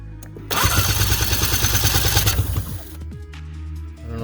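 A 2004 Ski-Doo GSX 600 HO snowmobile with a backfire and no-start fault cranks on its electric starter, a loud rhythmic chugging churn lasting about two seconds that fails to catch, then a quieter mechanical rattle afterward.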